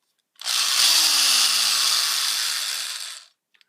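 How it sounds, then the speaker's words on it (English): A power drill bores pilot holes into cheap particle board for an IKEA media center cooling fan mount, one steady loud whir lasting about three seconds, then a couple of faint clicks. "Now we're going to establish some pilot holes just to make sure this cheap particle wood doesn't crack"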